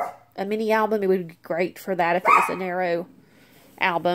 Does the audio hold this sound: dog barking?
yes